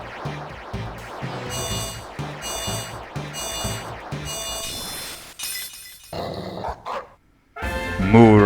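A Pokémon evolution sequence in Pokémon White, with chiming electronic jingle tones and a shimmering sweep, then a gruff, growling cry from the big shaggy dog Pokémon at the end.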